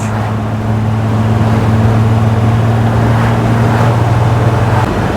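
Steady, loud Triumph GT6 sports car engine drone climbing a steep hill in overdrive on light throttle, a low constant hum running evenly at moderate revs throughout, close up and without talk.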